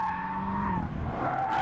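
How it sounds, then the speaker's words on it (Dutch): A BMW M5 burns its rear tyres, sending out a loud, sustained tyre squeal with wavering pitch over an engine drone, close and continuous for the whole stretch with no talking. "kun je in een half uurtje tijd een setje achterbanden oproken"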